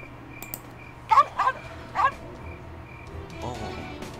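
A dog monster in the video game Sword and Fairy 5 barks in short yips, three quick bursts close together against a quiet game background, with no talk over them.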